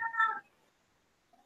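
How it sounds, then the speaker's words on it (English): A single cat's meow, short and fairly close, followed by quiet and the start of a second faint mew at the end. "Is that your cat?"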